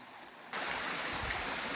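Steady rushing of flowing stream water, close and continuous, starting abruptly after a quieter moment.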